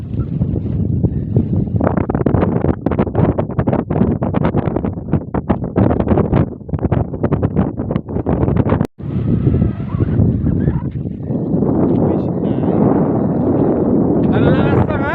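Strong wind buffets the microphone on a hilltop overlooking the sea, a loud continuous roar with gusty surges, while someone talks over it.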